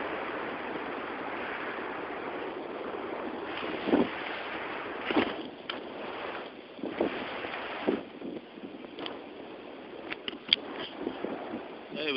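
Nor'easter wind storm gusts buffet the microphone outdoors, a steady rushing roar broken by several sharp bursts and thumps of wind, fairly faint overall.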